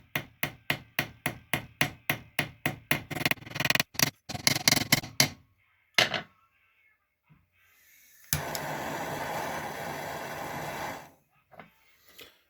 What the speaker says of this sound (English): using the ball peen part of the hammer will give it definition and texture.